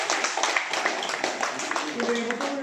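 An audience applauds in a hall during a Tamil cultural and charity ceremony, a dense, steady wash of many hands clapping together. It is fairly loud and continuous throughout, with some voices mixed into the crowd noise.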